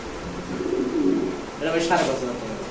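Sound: pigeons cooing

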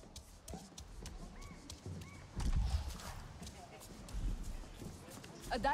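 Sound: horse hooves clip-clopping in video game Avatar Frontiers of Pandora

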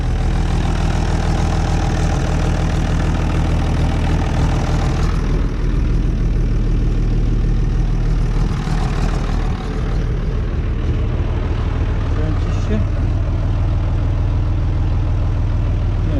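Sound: old tractor engine running and idling

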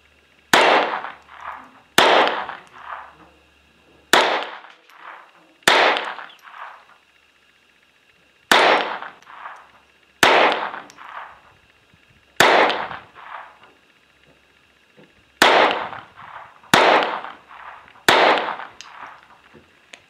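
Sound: GSG Firefly pistol firing Thunderbolt rounds

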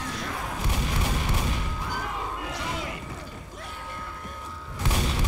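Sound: gas can catching fire and exploding in Left 4 Dead video game

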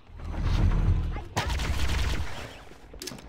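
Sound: laser gunfire in Cursed Halo video game

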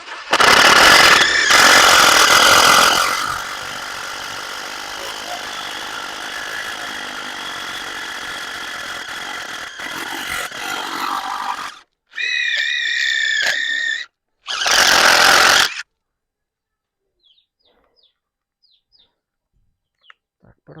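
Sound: DeWalt cordless impact driver running at speed setting two

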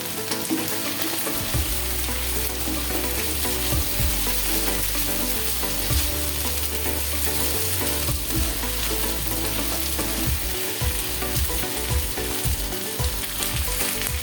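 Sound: chicken pieces frying and sizzling in a pan

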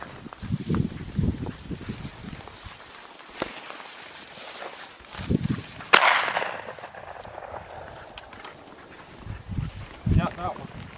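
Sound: shotgun shot while quail hunting

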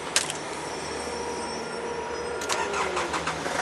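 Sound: Nissan Elgrand engine starting

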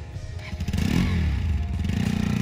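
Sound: motorcycle slipping on snowy road

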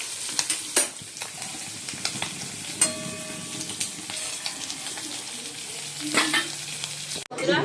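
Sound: food frying in a pan

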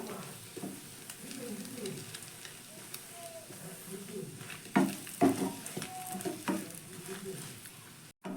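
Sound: paratha frying in a pan

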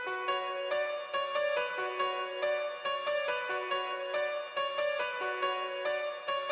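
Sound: Nexus Grand Piano preset counter melody in FL Studio

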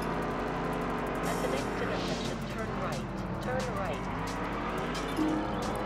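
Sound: car spinning out, from video game Test Drive Unlimited

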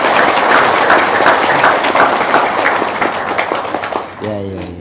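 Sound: audience clapping hands

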